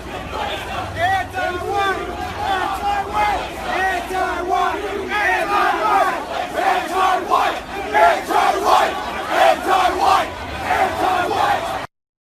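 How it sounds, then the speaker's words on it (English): Demonstrators at the Unite the Right rally in Charlottesville chant in unison, a loud crowd of voices rising and falling in rhythmic shouted phrases with background crowd noise throughout. "listen to what these demonstrators are chanting"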